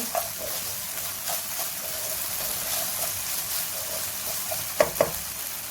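Coriander being stirred into fried okra (deresh bazi) in a pan, a soft steady sizzle with intermittent scrapes and clicks of the spoon, two sharper knocks near the end.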